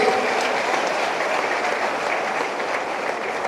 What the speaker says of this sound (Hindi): पर मोदी जी के लिए और सारे देश के लिए जोरदार तालियां पानी बरसे जाए।